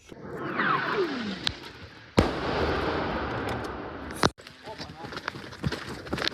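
A whistling sweep, then an incoming artillery shell explodes with a sharp crack, followed by another heavy blast and rumbling, in a war zone.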